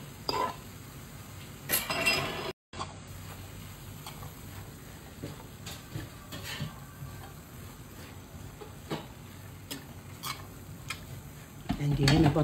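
Onion cooks with black pepper, coriander and salt in a pot, giving a soft steady sizzle under occasional clinks and scrapes from a spoon, with no talk.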